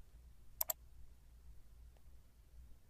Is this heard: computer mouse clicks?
yes